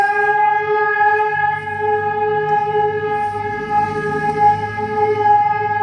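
A civil defense siren wails steadily and loudly, holding a sustained multi-tone pitch throughout.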